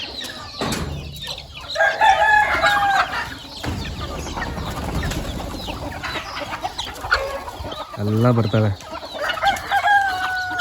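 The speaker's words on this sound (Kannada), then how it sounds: "ನಮ್ಮ ಮನೆ ಶೆಡ್ ಓಪನ್ ಮಾಡ್ತಿದ್ದೀನಿ ಕೋಳಿಗಳು ಎಲ್ಲ ಯಾವ ರೀತಿ ಬರ್ತಾ ಇರ್ತಿದೆಲ್ಲ" A flock of chickens of all sizes, chicks to grown birds, cluck and crow as they stream out of a home shed, with repeated calls and a brief voice.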